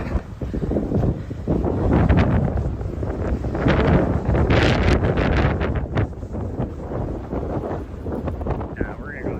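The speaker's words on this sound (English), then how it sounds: "It's too windy." Strong wind buffets the microphone on a Montana trail run, with a loud, continuous roar and gusty rumbling throughout.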